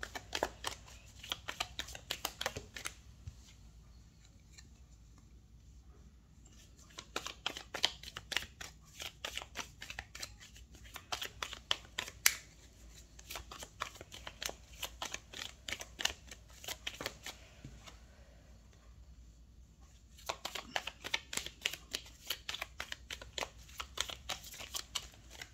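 Tarot cards are shuffled by hand in bursts of rapid papery riffling and clacking, close and fairly quiet, with short pauses between the shuffling runs.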